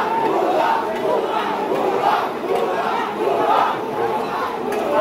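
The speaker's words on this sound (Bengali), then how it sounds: "তারা বুকে বুক মেলাতে মেলাতে আবার ভুয়া ভুয়া শুরু করে দিল" A crowd of protesting students at a street demonstration chants a two-beat slogan over and over, a loud massed roar of voices rising and falling in rhythmic waves.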